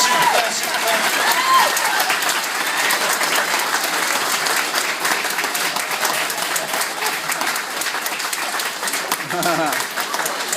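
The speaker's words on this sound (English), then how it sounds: "As once again, this round of applause is all for you." Audience applause at a live hypnosis show fills the room steadily for about ten seconds, dense clapping with a faint cheer, while a voice talks over it near the end.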